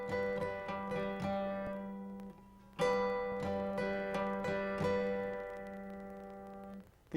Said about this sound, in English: plucking 2 strings, again with a thumb and a middle finger, and then lightly strumming with the tip of your index finger